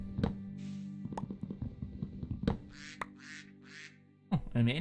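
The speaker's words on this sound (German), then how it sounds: "Oh, eine Ente." Several short quacks from a duck in the Minecraft video game, spaced out between clicks and soft game sounds, with a voice talking briefly near the end.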